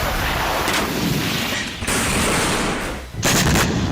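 Russia-Ukraine war footage with loud, dense bursts of gunfire and artillery: rapid crackling volleys sustained across the clip, briefly dropping out twice before resuming at full force.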